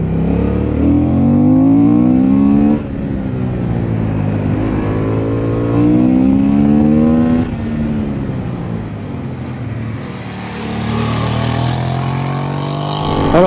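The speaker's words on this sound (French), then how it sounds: "Honda a bien travaillé son échappement à double sortie pour avoir des sons aigus à haut régime," Honda Hornet 750 motorcycle with a dual-outlet exhaust, engine revving up and down in several repeated rises and falls of pitch, loud and close, growling low and turning sharper at high revs.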